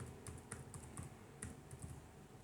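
Quick, light keystrokes on a computer keyboard as a MongoDB command is entered, a steady run of soft clicks heard alone in a quiet room.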